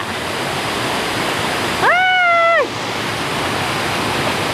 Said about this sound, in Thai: น้ำตกเสียงดังมากๆ